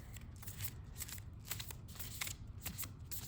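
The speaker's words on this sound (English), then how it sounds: "You guys can't say we didn't shuffle the cards with that one" Digimon trading cards are riffle-shuffled in quick repeated bursts of crisp flapping clicks, close and fairly quiet, with no talking.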